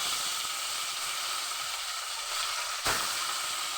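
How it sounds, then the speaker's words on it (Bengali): Rohu fish frying in hot oil in a wok, with a steady broadband sizzle and hiss throughout and a brief louder spit near the end. "মাছগুলোকে ভালোভাবে ভেজে নেব।"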